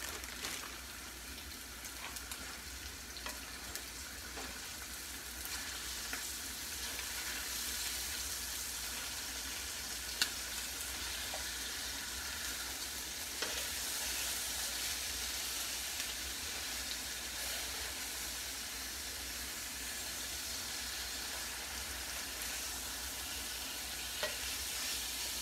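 A pork chop pan-searing, giving a steady, fairly quiet sizzle and crackle that runs unbroken throughout, with small pops here and there and no voices.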